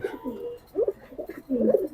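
A male Jali pigeon coos in soft, low, throaty phrases, three short bursts separated by brief pauses, heard up close in a quiet setting.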